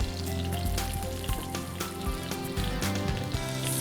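Mustard seeds, curry leaves and green chilies frying in hot oil, a dense crackling sizzle that holds steady and close throughout with small pops, and no voices.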